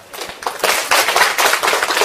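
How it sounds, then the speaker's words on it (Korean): An audience at a Good Internet Club talk event breaks into loud, dense applause that builds quickly and stays steady and close. "큰 박수로 환영해 주시기 바랍니다"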